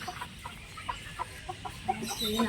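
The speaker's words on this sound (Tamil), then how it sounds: "இதுவும் ஜப்பான் கோழி. ஜப்பான் சேவல்." A Japanese chicken clucks at the Rajali bird park in Thanjavur, with soft, short clucks repeating at an irregular pace over quiet background noise.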